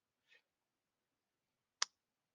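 A computer mouse clicking during software setup: one faint click early, then a single sharp, loud click alone in near silence.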